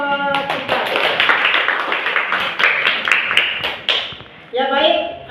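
A classroom of students claps for a student group after a presentation, with dense, close hand claps sustained for several seconds before they die out, and voices mixing in near the end.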